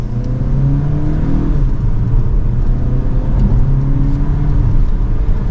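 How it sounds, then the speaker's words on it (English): A 2023 Volkswagen Tiguan SEL accelerating hard from second gear, its engine drone rising steadily inside the cabin with a constant low rumble and whir throughout, and no talking. "behind the wheel now for the Volkswagen Tiguan, let's give it another acceleration here"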